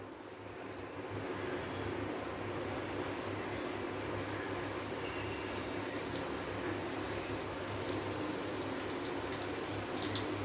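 Frozen prawn samosas fry in a small kadai of hot oil at medium heat, a steady even bubbling hiss that holds at a constant level throughout.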